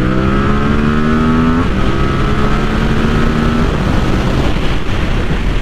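A 2022 Yamaha R7 motorcycle rides along with a loud, steady engine drone, its pitch shifting as it runs, mixed with heavy wind rush and no talking.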